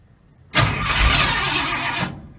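A primed car engine on a Mad Max-style custom build cranks and catches abruptly, then holds a loud, rough, steady roar for about a second and a half before cutting off.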